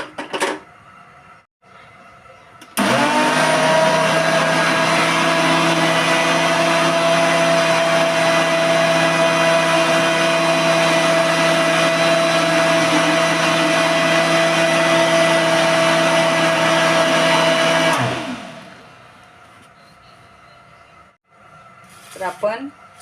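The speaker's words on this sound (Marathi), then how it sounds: "आता हे सर्व साहित्य मी मिक्सरला लावून घेणार आहे" A kitchen mixer grinder whirs loudly and steadily for about fifteen seconds, blending almond lassi with ice cubes, then winds down. Quiet sounds of handling come before and after.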